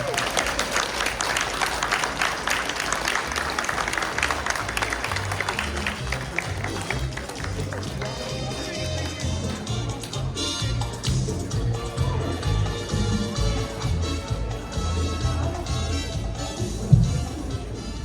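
Audience applause greets a doctor introduced at a Santa Maria Ilocos Sur association gathering, a dense steady clapping that carries on for the whole stretch, with faint voices and a burst of music mixed underneath.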